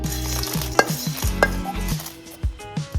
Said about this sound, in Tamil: மிளகு, ஜீரகம், காஞ்ச மிளகாய் 3 ஒன்றா போட்டு வறுத்துக்கலாம்.